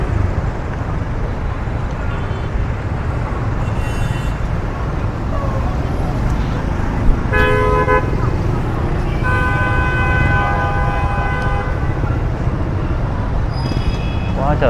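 Congested Saigon street with cars, motorbikes and taxis, a constant rumble of engines broken by several horn toots and honks in the middle and near the end.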